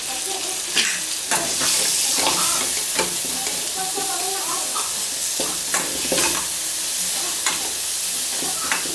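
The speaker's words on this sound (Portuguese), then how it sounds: "Eu vou pôr cebola e pimentão já, que eles vão fritando junto." Onions and bell peppers sizzle steadily in a frying pan during home cooking in a rural kitchen, with scattered clinks and stirring scrapes over the constant hiss.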